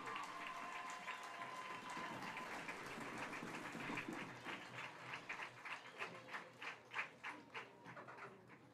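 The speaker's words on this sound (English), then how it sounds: "give a well-deserved round of applause to both teams tonight" A football crowd applauds both teams after a Green at White game, heard as a faint, distant wash of clapping that thins into scattered individual claps toward the end.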